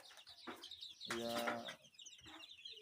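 Sonali chickens, about 120 birds around 17 days old kept in a brooder, cluck and squawk in short bursts, with one louder call mid-way and brief speech over the flock.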